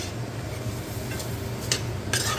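Diced tricolor bell pepper being stirred through meat juices in a pot, with a soft steady sizzle and a few faint scrapes and clinks of a utensil against the pan.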